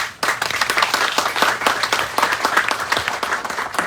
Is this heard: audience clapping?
yes